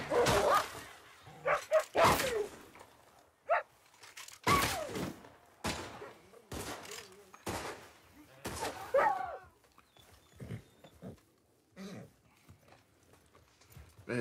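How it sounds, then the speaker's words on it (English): Dog barking and attacking in the video game Red Dead Online: loud, sharp barks in irregular bursts, mixed with clip-clopping hooves and game sounds. "The dog started attacking me"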